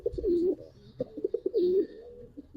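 Racing pigeons at a loft coo close and loud in a couple of rolling, throaty phrases with short pauses between, the calls standing alone without talk.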